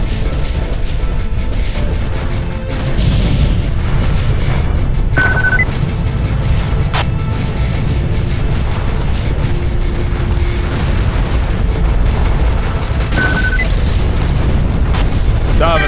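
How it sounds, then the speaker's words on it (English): Ship G4 exploding in Freespace 2: a deep, loud booming rumble rolls on continuously with scattered higher bleeps and effects, and a voice speaks briefly at points. "G4 is going to blow"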